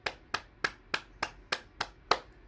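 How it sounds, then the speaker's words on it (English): Hands clap in a steady, unhurried beat during a morning bouncing and energy exercise session, eight crisp separate claps spaced about a third of a second apart, fairly faint, with no talk. "Clap your hands."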